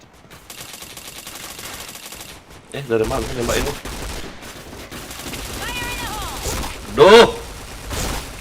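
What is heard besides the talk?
gunfire in a video game shooter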